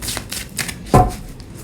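Tarot cards shuffled by hand, a few quick riffling bursts followed by one louder, fuller shuffle near the middle, close and alone with no talking.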